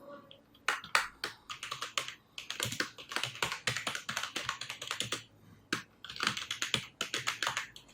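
Typing on a computer keyboard while filling in a university name and degree details: rapid, uneven bursts of close key clicks with short pauses, no voices.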